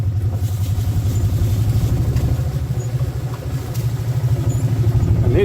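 A Mule utility vehicle engine runs steadily nearby with an even, throbbing low rumble and no talking over it.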